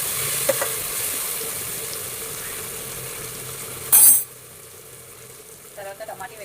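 Ginger garlic paste fries in a pan for chicken biryani, a soft, steady sizzle broken by a brief loud scrape or splash of stirring and a few light clinks near the end.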